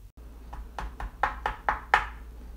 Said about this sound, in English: Well, Frank, someone's knocking at the door and giving us answers for free.